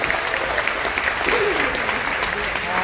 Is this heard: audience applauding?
yes